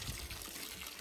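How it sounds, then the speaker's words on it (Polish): Cold water splashes and trickles steadily over a horse's legs, a soft, diffuse pouring sound at low level without any talk. "Oblewam nóżki zimną wodą,"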